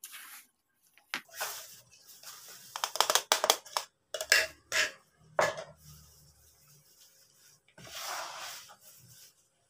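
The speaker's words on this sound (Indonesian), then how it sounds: "kita aduk rata" Pandan bread dough being stirred in a bowl as liquid milk is added, heard as intermittent wet squishing and scraping bursts separated by quiet pauses, close and fairly soft.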